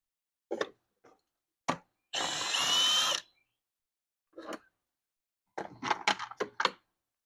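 A power tool spins briefly while bolts are removed from a 2015 Ford Escape with a 1.6 liter engine: about one second of close whirring, surrounded by scattered clicks and clunks of handling parts.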